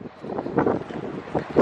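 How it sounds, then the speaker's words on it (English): Strong wind buffeting the microphone outdoors with low rumbling gusts that rise and fall unevenly, loud and close with no other clear sound. "the wind might be gnarly, to be honest with you"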